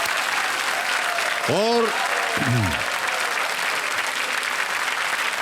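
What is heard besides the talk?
audience applause on a TV quiz show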